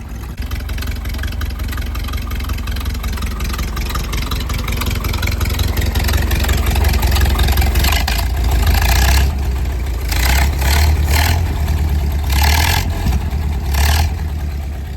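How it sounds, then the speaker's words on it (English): A traditional 1929 Model hot rod engine idles loudly and close with a deep, rumbling lope, then revs in several sharp bursts of rising throttle before settling back. "got her fired up and running, about to hit the road"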